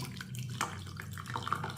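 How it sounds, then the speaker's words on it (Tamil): Avaram flower tea poured through a strainer into a glass, a soft, close trickle of liquid lasting under two seconds, faint and steady with a few light splashes. "இப்போ வடிகட்டியில் இதை வந்து நிறுத்துக்குருவோம்"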